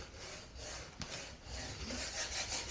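Vinyl transfer is smoothed down onto a glass mirror with a steady, close rubbing swish that continues for a few seconds, broken by one brief tap.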